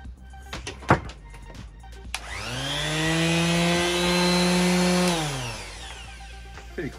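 Ryobi electric sander switched on, spinning up from a few handling clicks into a loud, steady motor whine with a buzzing hum, running for about three seconds before winding down and stopping, close by with no talking.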